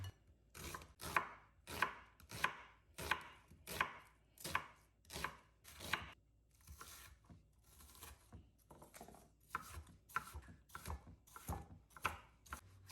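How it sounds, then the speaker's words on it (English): Rapid, steady knife chopping of onions on a cutting board, crisp rhythmic thuds repeating about once every half second, close and clear with no talking. "I then chopped up some onions."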